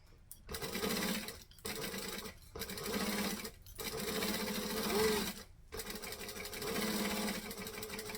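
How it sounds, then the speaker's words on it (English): A sewing machine runs in several short stitching bursts, stopping and starting as it stitches and back stitches, close and fairly quiet with clear gaps of silence between runs. "So we're going to stitch and back stitch."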